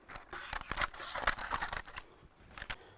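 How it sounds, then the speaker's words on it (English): Scissors snip through baking paper in a quick run of crisp cuts, close and fairly quiet, trimming it during monkey bread preparation for a kamado grill. "What I like to do is trim the paper."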